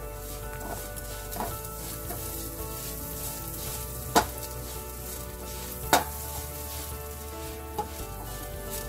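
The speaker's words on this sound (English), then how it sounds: "You want to do this on low heat to make sure that both your dried chilies and your lentils don't burn." Dried chilies and lentils frying in butter over low heat, giving a steady soft sizzle with faint stirring scrapes and a couple of sharp clicks.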